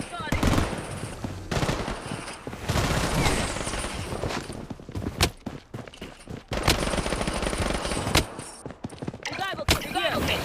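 Rapid bursts of video game gunfire crackle in close, loud volleys with short pauses between, mixed with in-game voice callouts.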